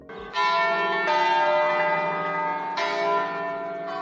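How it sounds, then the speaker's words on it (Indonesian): A church bell rings out in several loud, resonant strikes, each long ringing tone overlapping the next with no voices over it. "dalam tradisi Kristen juga bunyi lonceng dipercaya bisa mengusir setan"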